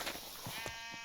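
Sheep in a Minecraft game bleat in a few short, clear calls close by, one after another, with no talk over them.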